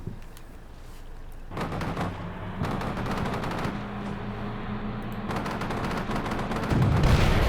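Sniper and automatic gunfire in the Combat Mission Shock Force 2 battle for a hospital, heard as loud bursts of rapid shots in several clusters, with a rumbling low background and no talking.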